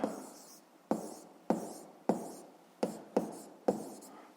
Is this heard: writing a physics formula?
yes